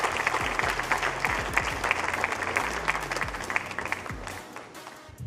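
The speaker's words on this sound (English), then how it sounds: "So once again, a round of applause for our German team." An audience at the Football Manager final of the FIFAe World Cup 2024 claps for the German runners-up team. The applause is dense and sustained throughout, then slowly tapers toward the end, with a few voices faintly underneath.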